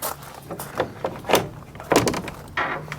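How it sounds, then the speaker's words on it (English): Doors of RV park facilities, including a shower room and ladies' toilet, are opened one after another, with clicks, creaks and soft thuds from handles and hinges, fairly close in a quiet indoor space. "then we start opening some doors"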